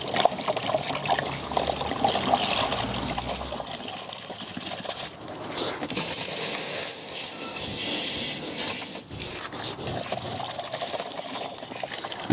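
Water rushes and trickles steadily through the coolant system of a BMW 7 Series during a flush, a continuous close gurgling pour that varies slightly in strength throughout.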